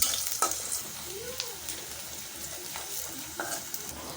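Onions sizzle in hot oil in a kadai with fenugreek, cloves, cardamom, cinnamon and bay leaf, a soft continuous fry broken by occasional spoon scrapes and clicks.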